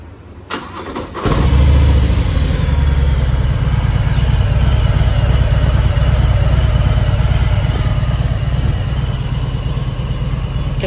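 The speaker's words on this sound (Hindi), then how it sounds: "और अभी इसकी मैं स्टार्ट करके आवाज़ सुनाता हूँ" A Harley-Davidson Fat Boy motorcycle cranks and fires up abruptly after a brief click, then settles into a loud, close, steady idle with a deep, even rumble lasting several seconds.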